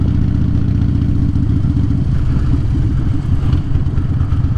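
A motorcycle engine drones loudly and steadily while the bike is ridden gently, a deep continuous rumble with slight rattling texture and little change in pitch throughout.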